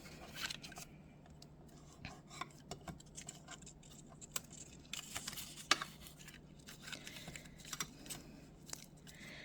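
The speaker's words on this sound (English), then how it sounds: "So now we're going to fold and burnish each of these score lines that we've got." Paper score lines being folded and burnished for an Easter basket craft, a close, quiet run of irregular crisp creases, rubs and taps with no voices.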